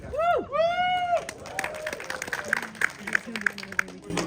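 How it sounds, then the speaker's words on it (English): Audience applause and cheering for actor Ken Foree at a final Dawn of the Dead ('78) screening in Monroeville Mall: loud whoops and cheers open the clip, followed by scattered clapping and crowd noise with voices talking. "big hand of applause for Ken"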